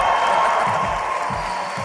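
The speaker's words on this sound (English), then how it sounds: "I want to hear everybody cheer as loud as you possibly can." A graduation audience cheers loudly as a dense, sustained crowd roar with whoops and scattered clapping, filling the whole clip and slowly easing off toward the end.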